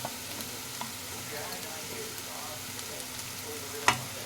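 Ginger garlic paste fries with onions in a pan for a potato and kidney bean curry, producing a soft, continuous sizzle with one sharp utensil clink near the end.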